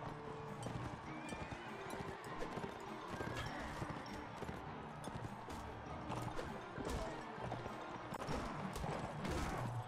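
Horses galloping in the video game Mount and Blade Warband, a dense, continuous clatter of hoofbeats with steady loud rhythm throughout, mixed with game battle noise and occasional louder knocks.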